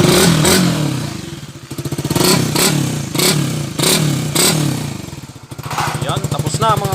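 Honda RS 150fi motorcycle engine after a water pump refresh, idling and revving in repeated short bursts close up, with a clattering rhythm and a voice talking briefly near the end.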